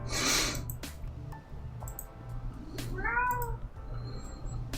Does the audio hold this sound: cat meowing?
yes